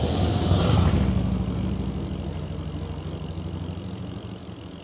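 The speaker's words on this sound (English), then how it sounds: "Somebody's out on their motorcycle enjoying an afternoon drive." A motorcycle on an outdoor road, its engine rumbling loudly at first and then settling into a steady, fading drone as it moves away.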